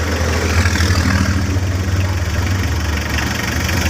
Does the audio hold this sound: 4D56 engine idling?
yes